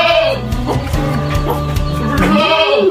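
Goats on a goat farm bleat loudly and close by, several wavering calls in succession with faint voices in the background.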